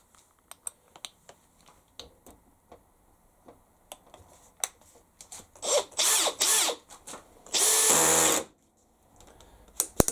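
A drill set to its lowest screw setting drives a screw: scattered clicks and taps, then two short whirring bursts and a longer steady run, loud and close.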